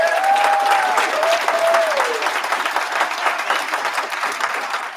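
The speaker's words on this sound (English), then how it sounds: "Can you guys please give a big, warm a round of applause for the president and chairman of the Walters Group" A crowd at a graduation ceremony applauds the president and chairman of the Walters Group, sustained loud clapping with a few whoops over it at first, holding steady and easing slightly toward the end.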